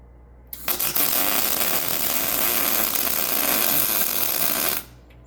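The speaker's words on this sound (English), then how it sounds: "I'll grind that weld out so I do have a good strong weld in it" An angle grinder grinds down a weld on the axle of a vintage 1964 Little Champ camper. It starts abruptly, then runs as a loud, steady, harsh whine for about four seconds before cutting off.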